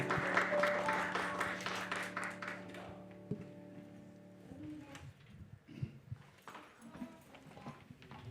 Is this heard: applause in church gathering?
yes